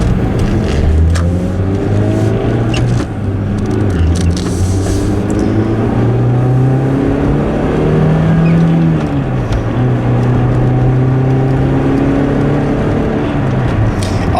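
Car engine pulling hard under acceleration, the car running without working VVTi and with a P1693 fault code, its steady drone rising and shifting through gears for about fourteen seconds, loud and close from inside the cabin.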